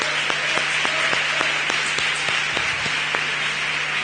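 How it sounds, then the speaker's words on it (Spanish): Applause from an audience at an international physiotherapy and pain conference, a steady wash of clapping with a few sharper individual claps standing out, continuous and fairly even at moderate loudness throughout. "Fuerte aplauso."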